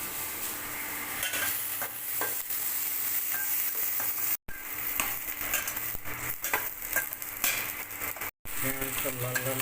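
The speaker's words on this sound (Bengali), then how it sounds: "পেঁয়াজটা লাল লাল করে ভেজে নিতে হবে" Onions frying in hot oil for a fish curry lunch: constant crisp sizzling with frequent spatula scrapes and stirring knocks close up, briefly cut off twice, with a little faint background sound.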